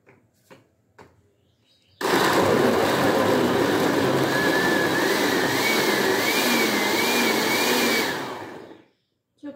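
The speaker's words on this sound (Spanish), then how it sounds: "Listo, vamos a licuarlos con un poquito de agua." Kitchen blender puréeing garlic cloves with a little water, a loud steady whirring roar that starts abruptly after a few soft knocks, runs for about six seconds, then winds down and stops.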